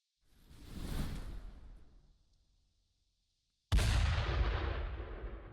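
Artillery barrage in the tactical game Burden of Command, where a rising whoosh swells and fades, then after a silent gap a loud, close blast erupts and rumbles on.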